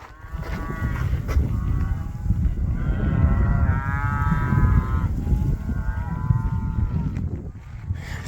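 Cattle moo repeatedly along a North Carolina trail, long drawn-out calls from several animals overlapping against a steady rumbling background at fairly close range.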